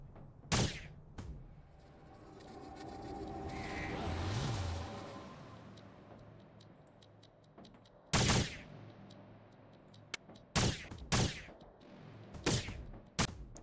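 Enemy gunfire in a Saturn RPG video game, several sharp, loud shots spaced irregularly, some in quick pairs, standing out over a quieter game background with a swelling whoosh early on.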